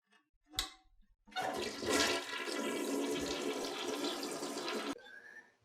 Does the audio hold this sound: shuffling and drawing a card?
no